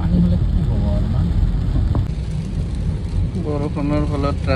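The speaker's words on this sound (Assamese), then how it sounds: "বৰষুণৰ ফলত ট্ৰাফিক ধুনীয়া গাড়ীবিলাক ৰখি আছে" Heavy rain pours steadily over stopped traffic on a Guwahati street, a loud, constant wash with engine rumble underneath, and a voice speaks briefly in the background.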